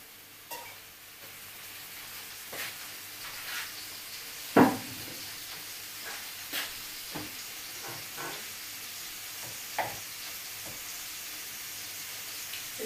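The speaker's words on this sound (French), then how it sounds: "je peux déjà commencer par rôtir notre chou" Cauliflower roasts in a hot pan, a soft continuous sizzle and hiss with occasional stirring clicks and scrapes, close and gentle throughout, with no talk over it.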